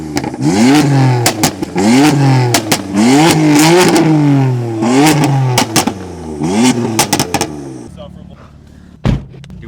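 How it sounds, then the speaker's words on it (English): A 600 hp BMW F82 M4 with a stage 4 plus burble tune revs hard in a series of sharp, loud rising and falling engine sweeps punctuated by crackling exhaust pops, then drops off abruptly into near quiet with one final pop. "Ethan wants to show off his exhaust."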